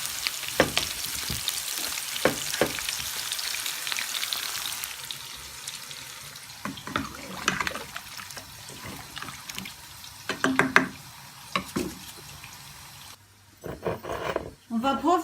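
Onions frying in a pan for coconut biriyani give a steady, soft sizzle with occasional stirring clatter and splashes of water, while a voice speaks intermittently over the cooking.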